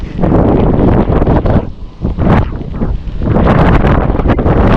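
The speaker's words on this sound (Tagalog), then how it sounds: "against the wind. Lakas ng hangin." Strong wind roars and buffets a microphone while riding along an open canal road, a loud, continuous rushing gust that dips briefly before surging back, with no voices.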